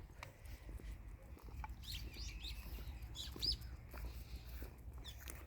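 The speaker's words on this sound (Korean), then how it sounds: "새소리가 참 평화로운 오후입니다." Faint, scattered bird chirps in the distance over a low outdoor rumble, with short tweets coming and going.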